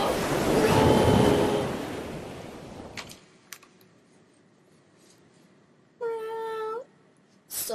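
A cat in an animated short gives a single clear, drawn-out meow, following a burst of loud rustling noise and a stretch of near quiet.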